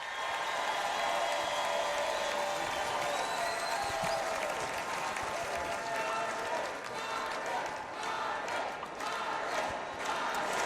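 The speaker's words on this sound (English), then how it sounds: "He is receiving a very warm reception from the crowd" A crowd at a political rally applauds and cheers in a long, continuous roar of clapping and shouting. The sound stays broad and steady throughout, with no clear voices rising above it.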